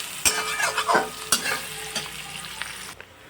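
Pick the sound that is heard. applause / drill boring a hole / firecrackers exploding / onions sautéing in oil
onions sautéing in oil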